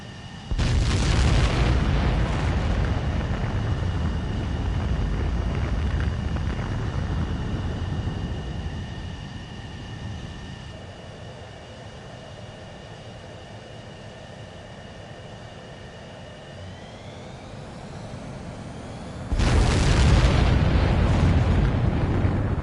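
A fighter jet launching in Ace Combat 7: a loud roaring engine blast rises and holds, eases into a steady whine with rising tones, then a second powerful roar bursts in near the end.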